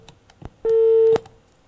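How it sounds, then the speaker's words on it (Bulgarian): A telephone tone rings during a live radio finance call-in show: a single steady electronic tone lasting about half a second, loud and clean, between brief clicks, with no talk over it. "Някой звънеше много упорито, ама не дочака."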